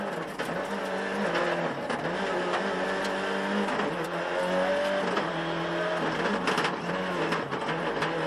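A 1995 World Rally Championship car at racing speed over 120 mph, its engine howling loud and continuous with rising and falling revs through gear changes, close and unbroken.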